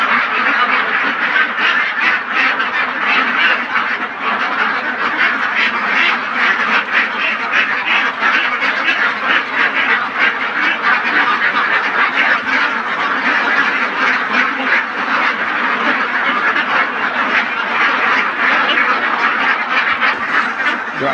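A shed packed with roughly 2,700 ducks fills with dense, continuous quacking, many birds calling at once in a loud, unbroken chorus close by.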